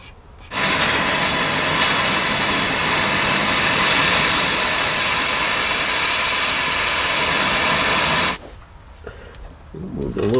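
A torch burns in a loud steady roar, heating a rusted threaded nut on a Jeep Cherokee XJ unibody frame, holding continuously for about eight seconds before cutting off and leaving a quiet background.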